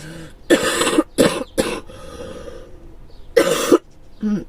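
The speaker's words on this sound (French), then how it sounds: "je vais tousser, excusez-moi" A person with a cold coughs several times in harsh, close bursts, with short gaps between them and a throaty rasp, no words spoken.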